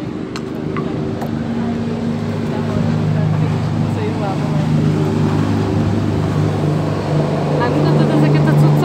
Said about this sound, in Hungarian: Driftel a hajó.